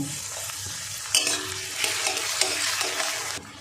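Ginger garlic paste and chopped tomato fry and sizzle in a pan, with steady crackling, a utensil scraping and stirring through it, and a sharper sizzle when more goes in partway.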